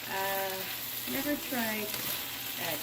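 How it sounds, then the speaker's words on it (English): Black, light kidney and pinto beans land in a pot for pasta fagioli, over a constant close sizzle and stir, while a person talks over the cooking noise. "So I'm going to throw in my beans."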